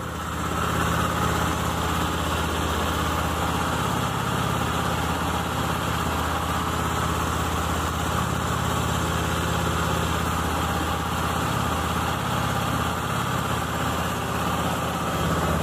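Close, steady idle of a Honda XRE 300 motorcycle with its original stock exhaust as it warms up, an even, buzzing engine drone with no talk over it.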